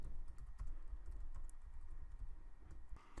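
Fingers tap steadily on a computer keyboard while a Facebook post is typed, a soft, continuous clatter of keystrokes heard close and alone at low volume.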